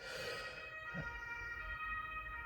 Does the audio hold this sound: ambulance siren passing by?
yes